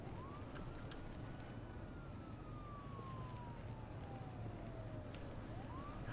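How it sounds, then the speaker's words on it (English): Police sirens in a video game, a single wailing siren sweeping slowly down then rising again, faint and distant over a low steady background rumble. "It heard the sirens and it turned around."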